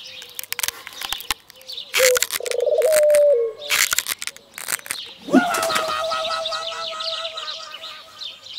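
Pigeon in a comedy sketch gives a few throaty coos between sharp clicks and thuds, then a longer steady coo near the end, close and clear with no talk.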